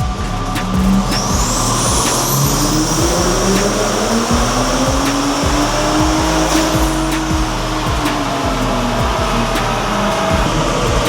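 A Ford Raptor truck with the 3.5L EcoBoost engine roars steadily on a dyno, loud and close, the pitch rising and slowly climbing through the run with a whistling turbo whine above it and no talk.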